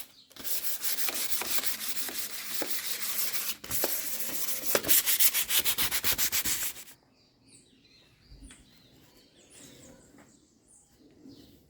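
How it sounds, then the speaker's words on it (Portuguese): Steady abrasive sanding on an old wooden ironing board, loud and continuous with a brief pause, then stopping abruptly, leaving faint birdsong and quiet background. "Eu vou lixar tudo"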